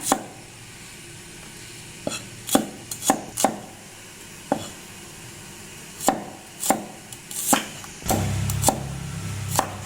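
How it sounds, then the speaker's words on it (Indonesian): Shallots being cut up with a knife on a board while preparing rendang, a series of sharp, irregular chops close to the mic, then a brief rougher scraping burst near the end; no talk. "bawang merah kita potong-potong, memudahkan kita untuk blender ya"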